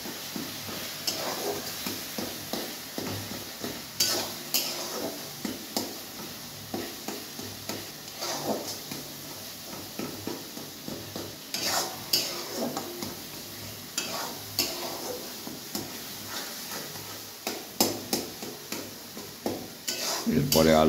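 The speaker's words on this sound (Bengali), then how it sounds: "ভালো করে মশলাগুলো মিশিয়ে নেওয়া হচ্ছে। এবার আর একটু কষা বাকি আছে, আর একটু কষবে।" Spice masala being stirred and fried in a pan after a splash of water, with a continuous sizzle under frequent close scraping and clinking strokes of a spoon against the pan, steady and rhythmic, and a louder clatter at the end.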